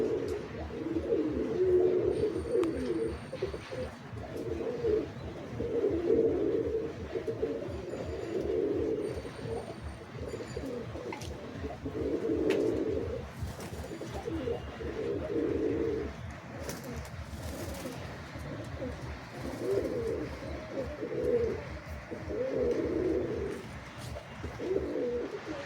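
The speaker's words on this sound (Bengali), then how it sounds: "এটা হচ্ছে টেডি পায়রা দেখতে পাচ্ছেন।" Teddy pigeons cooing close by in repeated rhythmic bursts every couple of seconds, low throaty coos over faint background chirps, with no talking.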